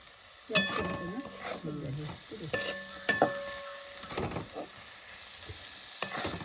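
Wet cashews stirred in a pan, a utensil scraping and clinking against the metal in irregular strokes over a light sizzle, close up, with a voice speaking partway through.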